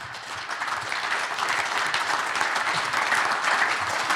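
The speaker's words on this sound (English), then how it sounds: "So a round of applause for our guest tonight." Sustained applause from a seated audience at a football club fans forum, a steady dense wash of clapping that carries on without a break.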